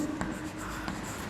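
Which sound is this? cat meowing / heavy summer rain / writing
writing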